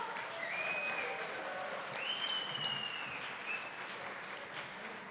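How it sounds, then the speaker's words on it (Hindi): Sustained applause fills a hall at the NARVIGATE 2024 event in honour of the living martyr Maninderjeet Singh Bitta. Whistles and cheers rise over the clapping, and it stays steady and loud throughout. "हमारे शूरवीर बेटा जी के लिए जोरदार तालियां दोस्तों।"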